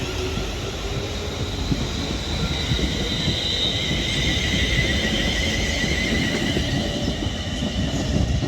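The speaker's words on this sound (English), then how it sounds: "Now departing is going to be the delayed 1324 London North Western Railway service to Birmingham New Street from Liverpool Lime Street" A London Northwestern Railway passenger train pulls out of Liverpool South Parkway, a steady close rumble with high metallic wheel squeal sweeping through it, no voices over the sound.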